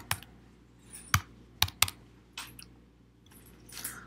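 Computer keyboard typing a location ID, a few sharp clustered keystrokes in an irregular rhythm, close and fairly quiet over a faint background hum.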